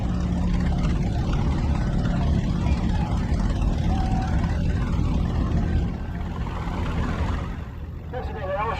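A model D15 tractor, built in West Allis, Wisconsin, rolls by in a thresheree parade, its engine a loud, steady low rumble that eases off near the end while an announcer talks over it.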